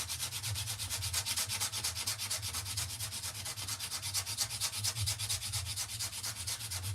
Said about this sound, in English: I wonder if you give it a little bit of a sand.